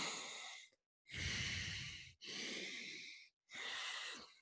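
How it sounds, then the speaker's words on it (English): Slow alternate-nostril breathing exercise, with three long airy breaths through the nose separated by short silent pauses, close and clear with no talking. "So I'll inhale through my nostril. I close off that nostril. And I exhale out the other side."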